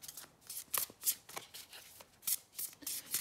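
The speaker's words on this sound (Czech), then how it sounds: "Pojďme si k tomu doložit dalšími kartami." Tarot cards being shuffled and laid out, a run of crisp papery riffles and slaps in an uneven rhythm, close and fairly quiet, with no talking.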